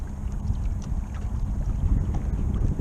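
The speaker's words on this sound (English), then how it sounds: "really uncomfortable trying to fish in all this wind" Strong wind buffets a small fishing boat anchored on the water while trout fishing, a steady low rumbling roar of gusts on the microphone with faint water sounds, no voices.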